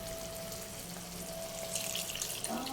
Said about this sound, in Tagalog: Lagyan na natin ng sabaw.